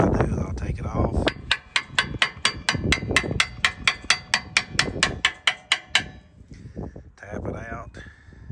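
A clogged fertilizer pump filter is knocked against something to shake loose debris: roughly twenty sharp, close taps in a quick, steady rhythm, with a voice speaking briefly before and after.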